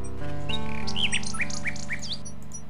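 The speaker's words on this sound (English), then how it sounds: "A nightingale perches on a high branch of the tree. She sings the most beautiful song Alexander has ever heard." A nightingale sings on a high tree branch in King's Quest VI, a bright warbling phrase of rising and falling whistled notes over soft sustained game music, no talking.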